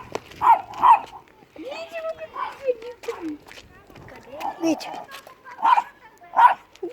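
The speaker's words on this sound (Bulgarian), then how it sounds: "И хора, вижте колко хубаво кученце." A puppy barks and yips in a series of short, close bursts spread across the moment, with people talking over and between the barks.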